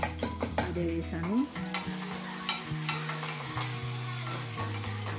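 Mustard seeds, cumin and green chillies fry in hot oil in a pan with a steady close sizzle, while a spoon stirs and scrapes against the metal in repeated strokes.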